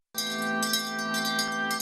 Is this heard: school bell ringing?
yes